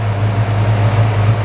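An electric supplemental fan mounted in front of a car's AC condenser, running while the car idles in traffic with the air conditioning on: a steady low hum with a constant whirring drone and no breaks.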